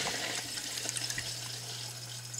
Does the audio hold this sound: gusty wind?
no